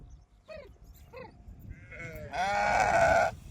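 An old goat bleats several times, with short wavering calls early on and a loud, long harmonic bleat near the end, close to the listener and without talk.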